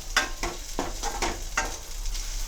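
Onion, tomato, green chili and curry leaves sizzling in a tempering pan, with a steady fry broken by repeated stirring scrapes, close and fairly quiet, no talking.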